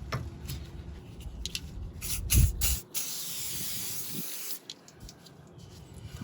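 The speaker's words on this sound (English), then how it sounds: "I will spray it with some good old penetrant" Penetrant sprayed from an aerosol can onto a stuck hose clamp on a 2010 Dodge Ram 1500, a few sharp hissing bursts close up, the longest one in the middle, with scraping around them.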